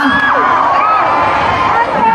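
A concert crowd at a Thai student event cheers and shouts loudly for a performer, with excited voices and a whistle-like high cry rising over dense babble throughout.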